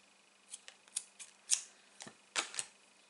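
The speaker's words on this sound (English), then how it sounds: "I'm just going to snip the ends so they're level" Scissors snipping paper strips level on a papercraft card, about eight or nine quick, crisp cuts in irregular succession, close and fairly quiet.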